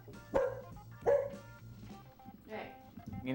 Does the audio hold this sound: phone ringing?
no